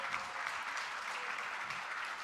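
Audience at a dental forum applauding as a diploma recipient comes forward, a steady, even wash of many hands clapping, moderately distant and continuous throughout.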